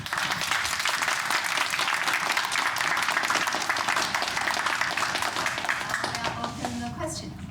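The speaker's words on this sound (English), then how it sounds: "Let's give Professor a big round of applause." A lecture audience applauds after a history talk, sustained dense clapping for several seconds that thins and fades near the end as a voice comes in.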